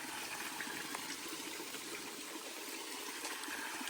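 A steady, broad rush of a flowing stream along the Appalachian Trail, continuous and fairly close, with no voices over it.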